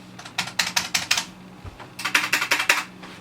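Quick bursts of crisp, clacky keystrokes from a mechanical keyboard, two flurries separated by a short pause, close and fairly loud.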